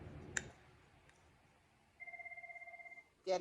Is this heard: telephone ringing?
yes